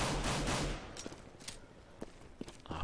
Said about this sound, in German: Schöner Schuss von Felix